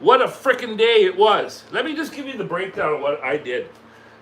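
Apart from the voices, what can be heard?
No everyday noise stands out behind the speech.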